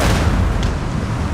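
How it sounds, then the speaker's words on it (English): Howitzers firing in the Napoleonic battle game Total War: Napoleon, a deep rumbling artillery boom rolling out loud and low, with a faint sharp crack partway through the brief burst. "And my howitzers have started firing too"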